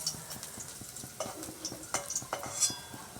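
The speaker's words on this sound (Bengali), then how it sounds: "নাড়িয়ে নিচ্ছি" A utensil stirs taro greens frying with garlic in a pan, making faint irregular scrapes and taps over a quiet sizzle.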